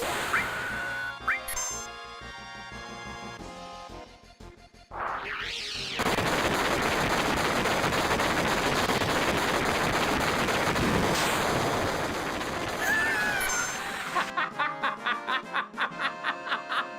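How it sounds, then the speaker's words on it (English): Missile barrage in Final Fantasy VII: a long, dense roar of blasts and rumbling that keeps going for several seconds, loud and steady, then breaks off into short rhythmic bursts of game sound. "Just calling down a missile barrage"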